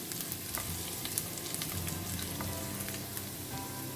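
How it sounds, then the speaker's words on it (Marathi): Garlic fries in hot oil for a Goan prawn balchao, a steady dense sizzle and crackle running throughout at moderate loudness, with small pops scattered across it and no voices. "ताका तेलार मातशें फ्राय करून घेवया."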